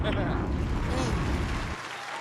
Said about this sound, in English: that's your round of applause